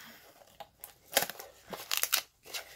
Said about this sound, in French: je vais prendre mes ciseaux qui sont juste là à côté de moi